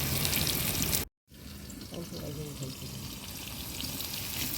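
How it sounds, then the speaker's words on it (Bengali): Kakrol (spiny gourd) pieces fry in oil with a continuous close sizzle and bubbling, briefly cut off by a moment of silence before resuming steadily, with a voice faintly present. "মা এবার তেলের মধ্যে সবগুলো কাঁকরোল একই পদ্ধতিতে একইভাবে ছেড়ে দিচ্ছে ভেজে নেওয়ার জন্য"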